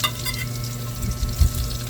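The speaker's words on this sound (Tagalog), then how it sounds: "First, igisa muna natin yung bawang." Garlic sautés in a pan for an adobo dish, giving a loud, close sizzle with low stirring scrapes and a brief thump partway through.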